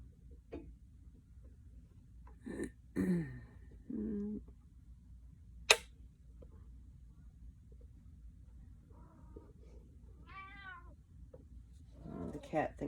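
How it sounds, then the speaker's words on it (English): A pet cat meows while candle wax is being poured indoors. A few quiet meows are scattered among soft clinks and small handling noises at a low level. "The cat thinks she can help."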